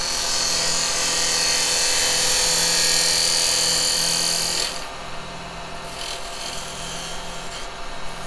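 A spindle gouge about 80 years old cuts a tenon on a wooden bowl spinning on a lathe, giving a loud, steady rasping scrape that drops off after about five seconds to a quieter running whir.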